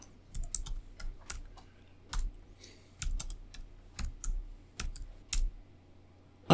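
Keystrokes on a computer keyboard as a command is typed into a terminal, quiet clustered clicks in short irregular bursts with brief pauses between, close and alone.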